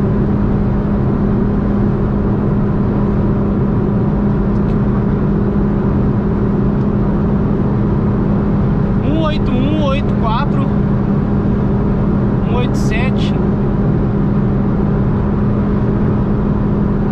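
A Mitsubishi Lancer with a CVT accelerates downhill toward top speed, a loud, steady engine drone held at constant pitch throughout with wind rush, and brief voices talking over it midway.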